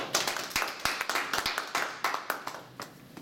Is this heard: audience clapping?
yes